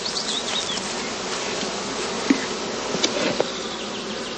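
Honeybees buzz steadily around sealed nucleus boxes set in the open at a heathland heather skep apiary, a dense continuous drone with a few louder bees passing close by.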